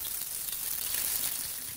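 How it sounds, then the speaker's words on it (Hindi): Chopped garlic sizzles steadily in half a cup of hot oil for a dal tadka, a soft continuous frying hiss close by with no talking. "अब मैंने आधा कप ऑयल का लिया है और मैं थोड़ा सा इसमें लहसुन काटा है। अब इसका मैं तड़का लगाने लगी।"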